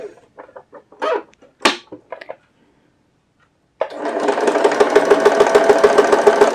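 An electric sewing machine stitches a readymade neck on fabric, starting after a pause and running steadily with a fast even rhythmic whir, close and fairly loud, preceded by brief knocks and handling sounds.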